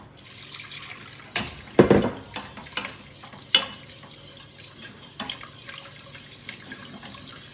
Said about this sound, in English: And then I'm going to add the milk a little bit by little bit. And keep whisking it so you don't get lumps.